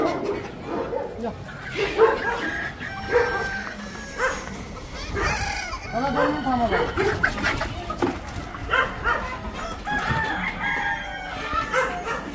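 Free-range native gavran chickens in a poultry farm shed cluck and crow at middle distance in scattered bursts, with a dog barking at times and someone talking over them.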